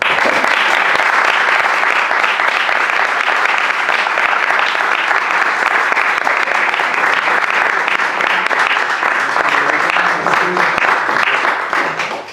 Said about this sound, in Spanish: el aplauso fue bastante significativo